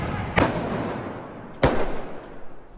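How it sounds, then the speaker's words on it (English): Two sharp firework bangs burst out on a street during a night of unrest, one early and one about a second later, each a loud broadband crack over steady crowd and street noise. "a couple fireworks go off and then some broken windows there"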